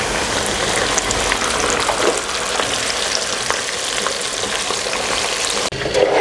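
Fish frying in hot oil gives a steady, dense sizzle and crackle that holds loud and close throughout, with a brief dip near the end.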